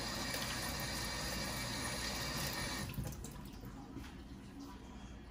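Dry thyme rinsed under a running kitchen tap: a steady, loud rush of water that drops to a softer, uneven splashing partway through as the herbs are moved in the stream, close by.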